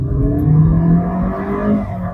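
A 2024 Kia Sonet SX accelerates in sport mode, its engine holding a loud, steady drone heard from inside the cabin, the pitch climbing slightly as it pulls.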